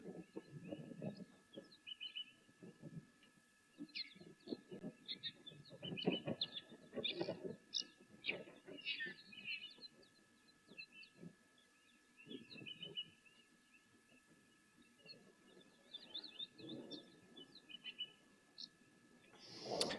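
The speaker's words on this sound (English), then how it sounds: "That's a grey-headed bush shrike is what I thought it might be." Grey-headed bush shrike calls out from a bush waterhole amid other birdsong, with low murmuring voices and faint background sounds through the scene.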